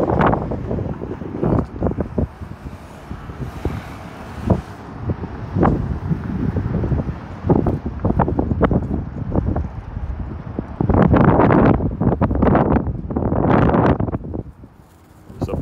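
Wind gusts across the microphone on a wide downtown one-way street, loud low rumbling buffets coming in uneven bursts and dropping off briefly near the end.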